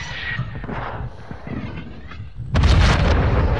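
Gunshots in a long-range shooter game, a dense burst of loud booming reports toward the end after a stretch of rumbling gunfire and ambience.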